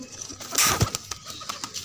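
A pigeon coos softly a few times nearby, with light outdoor background noise, in a backyard in Multan, Pakistan.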